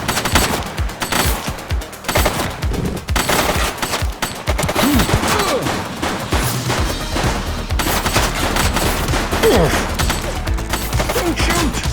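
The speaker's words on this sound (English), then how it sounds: "She's shooting!" Loud, sustained gunfire in the police game The Precinct: dense rapid bursts and single shots overlapping for the whole stretch, heavy and close, with thuds and impacts mixed in.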